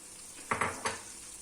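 Chickpeas tumble into a frying pan while cooking chicken pilaf, giving a quick cluster of three close clattering knocks against the pan over a faint background hiss.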